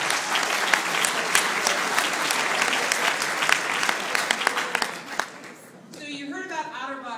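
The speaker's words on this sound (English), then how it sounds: "give him a round of applause" An audience gives a round of applause at a giveaway event, loud mixed clapping with sharp individual claps that fades out, followed by a person talking.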